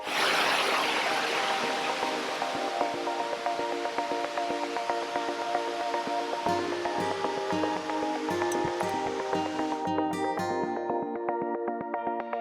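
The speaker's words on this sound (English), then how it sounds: "Here's waterfall number 2." Water rushes in a steady broadband roar from a waterfall on Sweet Creek Falls Trail, Oregon, with tonal layers in the background toward the end.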